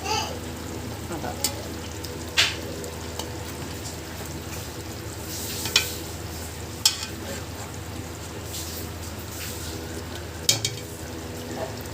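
Egg curry simmers and sizzles in a pan with garam masala added, a soft continuous frying bubble broken by several sharp scrapes and clinks as a spoon stirs against the metal.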